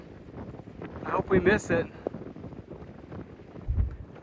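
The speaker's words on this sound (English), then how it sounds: "Man, it is so windy" Strong gusting wind buffets an outdoor microphone in dusty open country, a steady low rumble that swells in bursts, with a person speaking briefly partway through.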